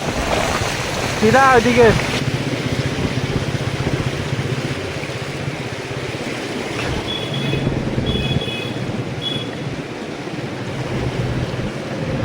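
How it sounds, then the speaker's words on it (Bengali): A scooter rides through a flooded monsoon street, throwing up a loud, continuous wash of splashing water mixed with heavy wind buffeting; a man briefly calls out directions. "এই আবার একজন যাচ্ছে স্কুটি নিয়ে। টাকা একটু আস্তে চালাও, জল ছিটছে"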